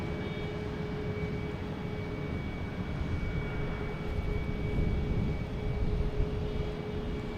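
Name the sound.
Air Portugal Airbus A321neo arriving at Boston Logan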